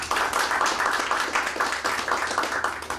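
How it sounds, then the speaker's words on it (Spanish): A church congregation claps together in an even, rhythmic beat, a steady pattern of sharp hand claps filling the room at moderate loudness with no voices over it. "Le damos un fuerte aplauso al Señor."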